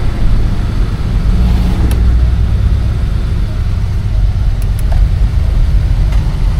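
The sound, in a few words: 1970 Oldsmobile Cutlass driving on the road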